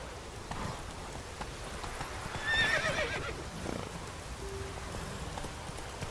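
A horse in The Witcher 3 video game whinnies once mid-clip over soft hoofbeats and a low ambient rumble, moderately close and otherwise unaccompanied.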